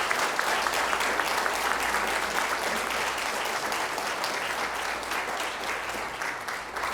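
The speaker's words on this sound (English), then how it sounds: "A round of applause, everyone." A live audience at a televised mayoral and council candidates' forum in St. Stephen gives a sustained round of applause, dense steady clapping filling the whole stretch, fairly loud and even, with no talk over it.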